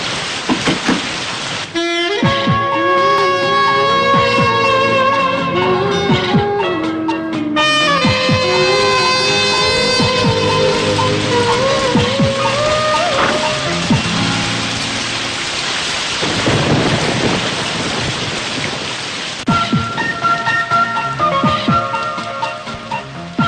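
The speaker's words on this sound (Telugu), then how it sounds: "వర్షం పడుతుంది కదని" Heavy rain pours in a continuous loud wash, mixed with prominent tonal music throughout, with no speech.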